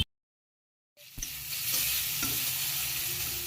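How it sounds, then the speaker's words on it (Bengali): Onion, bay leaf and whole spices sizzling and frying in a pan while being stirred, bursting in loud and close after a second of silence and holding a steady crackle to the end. "ফোড়ন আর তেজপাতা দিয়ে পেঁয়াজ কুচি দিয়ে ভালো করে নাড়াচাড়া করে নিয়ে ওতে সমস্ত মশলা রেডি করা মশলার সাথে অল্প একটু জল মিশিয়ে কষিয়ে নিয়ে"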